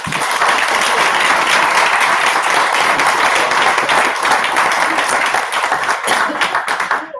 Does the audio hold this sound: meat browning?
no